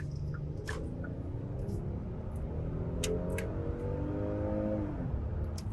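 Interior of a Hyundai Palisade SUV under acceleration: a steady engine drone climbs in pitch through rising harmonics, with tire and road noise underneath and a few faint clicks, no talk.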